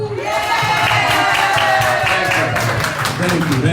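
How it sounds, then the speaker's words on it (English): An audience at a small community show claps on the host's cue, a loud crowd burst of clapping and cheering with voices and shouts mixed in throughout. "This is where you clap."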